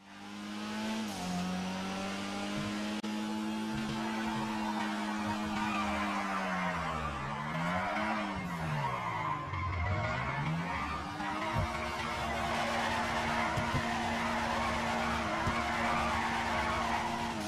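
In GTA 5, a car drifts with a long, loud tire skid and squeal over an engine whose pitch rises and falls as it revs, all continuous and close, with no voices.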